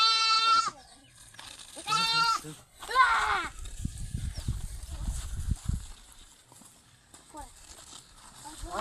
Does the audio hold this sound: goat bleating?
yes